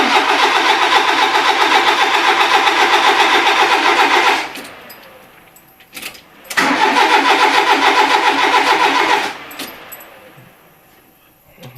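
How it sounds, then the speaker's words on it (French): A 1982 Renault Trafic engine is started with the choke engaged: two long, loud cranking bursts of about four seconds each, with a quieter pause between them and faint mechanical clicks after. "le véhicule démarre avec starter enclenché et puis il démarre"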